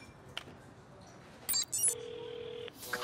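A telephone in an animated cartoon gives short electronic chirps, then a sustained ringing tone sounds for nearly a second before breaking off, with a brief burst afterward.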